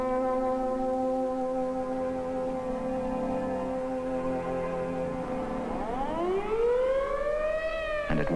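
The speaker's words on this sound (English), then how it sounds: "the siren sounds once more. Take cover." A civil defense air raid siren wails loud and steady with a sustained rising-and-holding tone, then begins a fresh upward sweep, sounding alone over a hushed, nearly deserted city during a Cold War nuclear attack drill.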